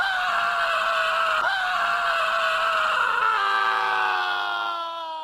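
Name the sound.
scream when hit by Shao Kahn's hammer, Mortal Kombat video game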